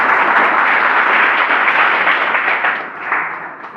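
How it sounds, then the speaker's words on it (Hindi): An audience at a polytechnic summer training event claps to greet a staff member being introduced, a short dense round of applause that tapers off after a few seconds. "तालियां बजाकर"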